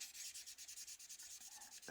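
Rhythmic back-and-forth strokes of sandpaper on the plastic hood of a 1968 AMT Corvair model car, quick even rubbing passes close up with no talking.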